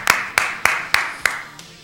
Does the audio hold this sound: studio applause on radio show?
yes